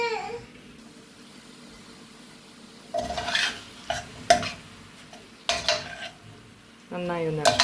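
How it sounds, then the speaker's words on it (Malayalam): Washed chicken pieces drop into a hot pan of onions and are stirred, first a quiet stretch, then loud close scrapes and clatters of a spoon against the pan over a sizzle, with a brief bit of speech near the end. "അതിനകത്തേക്ക് നമുക്ക് ചിക്കൻ കഴുകി വൃത്തിയാക്കി വെച്ചേക്കുന്നത് ഇട്ട് കൊടുക്കാം."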